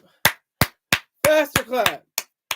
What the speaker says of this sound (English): can everybody in the whole chat clap, slow clap, and in the building faster clap